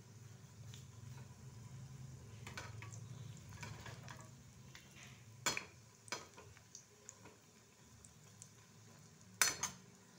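Moong dal pakoras frying in oil, a low bubbling sizzle with a handful of sharp clinks and scrapes as they are turned gently, no talking.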